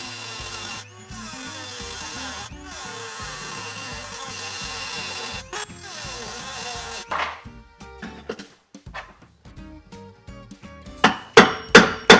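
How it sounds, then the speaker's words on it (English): A Dremel rotary tool whines steadily at close range during work on a 1971 VW Beetle restoration, cutting out in brief gaps, then giving way to sharp scraping and clattering bursts. "we're going to give the Dremel a shot"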